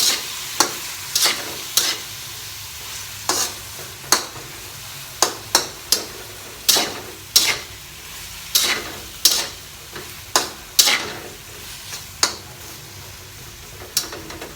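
Water spinach (kangkong) stir-fried in a pan with celery and okra in oyster sauce, with a steady sizzle under repeated sharp scraping strokes of a utensil at an irregular beat, close and clear, no talking.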